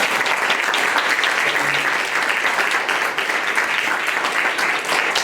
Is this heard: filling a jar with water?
no